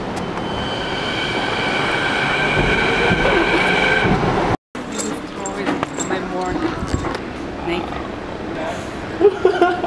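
A Vancouver SkyTrain bound for Richmond-Brighouse rumbles and screeches loudly into the station, wheels squealing, then after a brief gap quieter clatter and station noise continue.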